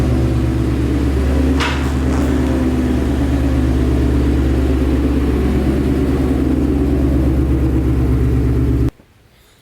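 A Ford Mustang GT with a 10R80 transmission idles as it warms up, a deep, steady, throbbing rumble close by that holds constant for about nine seconds and then stops abruptly.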